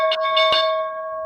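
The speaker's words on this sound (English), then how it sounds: "There's the morning bell." A stock market morning opening bell rings out once, a bright sustained clang with a long ringing decay, clear and alone.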